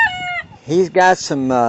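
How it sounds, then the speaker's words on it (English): Bantam chickens cluck and call in a loud, nearby burst of harmonic squawks and crow-like notes, with someone talking over them. "He's got some beautiful chickens."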